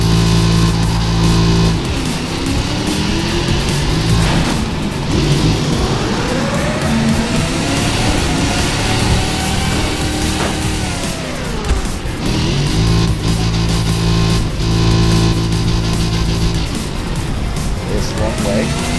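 A car engine in the racing video game Split/Second drones loud and steady for the whole stretch, rising and falling in pitch as it accelerates and shifts, with no talk over it.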